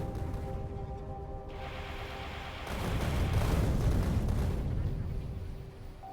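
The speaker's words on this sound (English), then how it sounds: "Oh, look at that nice little bomb." Bomb blast in the Factorio video game, a broad rumbling boom swelling midway and holding for a few seconds over steady game hum before fading.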